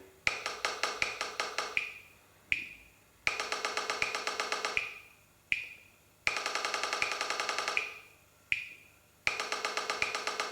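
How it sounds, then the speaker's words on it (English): Crisp, evenly spaced clicks tap out a looping rhythm, like a metronome on a practice-pad sound: quick bursts of strokes separated by single accented hits and short pauses. "I've programmed it using this, essentially a practice pad sound."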